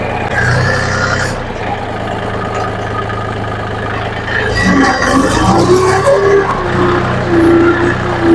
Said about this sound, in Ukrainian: А ну тікай, бо я зараз газувати буду.